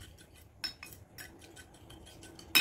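A utensil stirring seasoning and black pepper into an eggplant dish, giving quiet, irregular scrapes and light metallic clinks against the pan, with a sharper clink at the very end.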